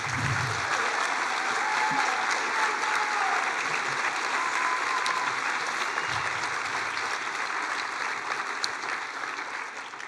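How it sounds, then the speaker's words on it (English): A concert hall audience gives a middle school band sustained, dense applause for about ten seconds, steady and full, with no one speaking over it. "Let's have another round of applause for the middle school band."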